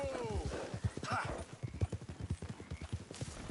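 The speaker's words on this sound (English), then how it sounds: "Get that horse in line, Arthur" In Red Dead Redemption, a horse whinnies loudly at the start, followed by a rapid, rhythmic clatter of hooves galloping close by.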